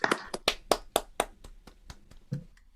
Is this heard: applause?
yes